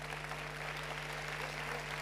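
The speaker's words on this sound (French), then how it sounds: "On applaudit." A conference audience at a ChangeNOW 2024 session with Hugo Clément claps steadily and evenly throughout, a dense, continuous wash of applause with no voices standing out.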